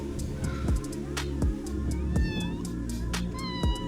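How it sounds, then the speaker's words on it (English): Several cats meow in short repeated calls, close by on a pier on a Thai island, over a low steady background rumble. "Kitties are following me."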